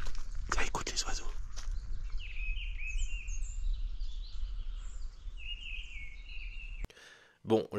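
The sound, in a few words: birds singing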